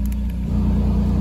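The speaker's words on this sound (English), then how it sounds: "a fob here that allows us to actually change the exhaust note, as you can hear" An Alfa Romeo engine rumbles loudly at close range with a steady, throaty exhaust note, holding a deep idle-like drone throughout.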